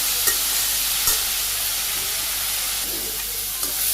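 Leafy greens frying with onion in a pan in a Bangladeshi village kitchen, giving a steady broadband sizzle with faint stirring scrapes throughout, no talking.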